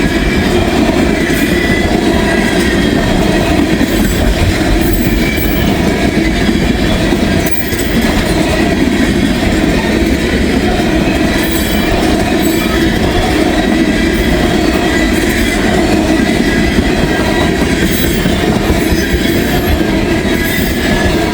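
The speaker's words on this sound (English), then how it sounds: "All the asphalt tankers look empty." A long freight train of empty asphalt tank cars rumbles steadily past at close range, with continuous wheel clatter, intermittent squeals and metallic rattles, and no voices.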